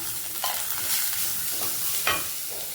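Ground paste fries in a pan with spluttering mustard seeds, making a continuous crackling sizzle broken by a few sharper pops and stirring scrapes, close and fairly loud. No one talks.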